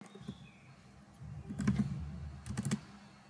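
Code typed on a computer keyboard, a quiet run of clicking keystrokes that starts sparse and picks up into two short bursts, close and without speech.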